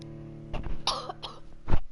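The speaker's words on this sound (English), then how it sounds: "Why is it when I start talking, I start coughing?" A person coughs and clears their throat late at night during a game stream, several rough bursts in quick succession, close and fairly loud, with a final heavier cough.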